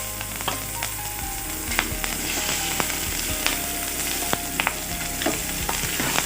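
Onion and green chilies fry in hot oil left from frying fish, with whole spices already in the pan, giving a close, steady sizzle broken by sharp pops and the clink of stirring.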